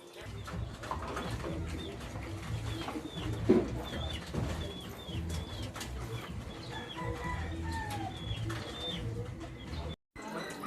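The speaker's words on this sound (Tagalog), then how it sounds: "Magpapakain muna tayo ng mga ibon natin" Soft cooing of pigeons at feeding in Magalang, Pampanga, repeats through the clip over faint background noise, with scattered bird calls and a brief thump.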